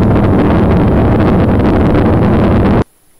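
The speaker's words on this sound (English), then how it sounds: "No, this is actual audio from a Soyuz launch." Soyuz rocket engines roar during launch in a dense, loud, unbroken rumble that cuts off abruptly into near silence near the end.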